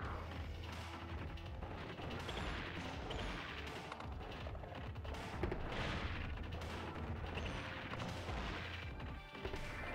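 Steady barrage of blaster fire and impacts during a boss fight in the game Gato Roboto, dense and continuous throughout with layered crashes and mechanical effects.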